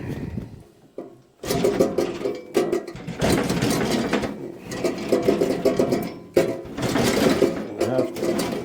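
A bandsaw cuts an ironwood ax handle blank in repeated bursts, each a loud, close whining rasp separated by short quiet pauses as the cut is stopped and restarted.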